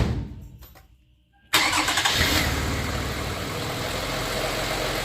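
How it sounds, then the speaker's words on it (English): A 2008 Toyota Sienna engine turns over and fires after a short crank, then settles into a steady, close idle that continues to the end. "Let's go ahead and start her up."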